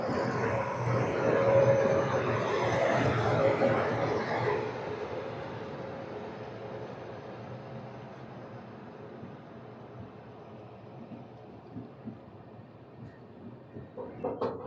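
The Gowthami Superfast Express, train 12738 from Lingampalli, pulls into Kakinada Port station with a loud broad rumble that slowly fades to a quieter roll, ending in a few clanks and knocks.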